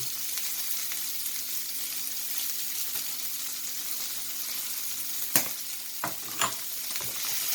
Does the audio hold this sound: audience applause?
no